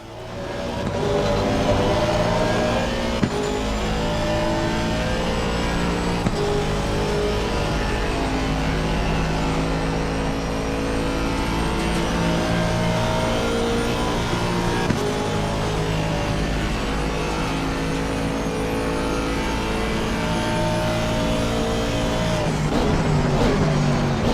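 An Aston Martin GT race car from Assetto Corsa Competizione roars steadily from the cockpit, its engine note rising and falling through gear changes and corners for the whole stretch.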